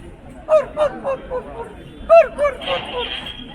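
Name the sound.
person imitating turkey gobbling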